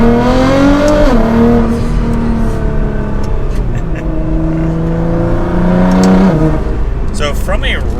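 A 2022 BMW M4 Competition or R35 Nissan GT-R sports car accelerates hard, its engine note climbing steadily through the gears with shifts, loud and close from inside the cabin, with speech over the drive.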